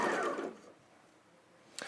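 A sewing machine stitches a quilt block seam with a scant quarter-inch allowance, running in a quick, close burst for about half a second before stopping, followed by quiet and a brief click near the end.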